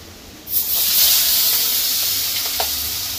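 Pabda fish dropped into hot oil bursts into a loud, steady sizzling hiss that holds with faint spitting crackles, close and with no voices.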